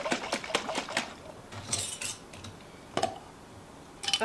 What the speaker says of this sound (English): Really shake her up.